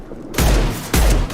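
Two heavy gunfire bursts from the Mass Effect 2 game, each a loud booming volley roughly half a second apart, close and dominant with no voices.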